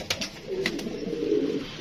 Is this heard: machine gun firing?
no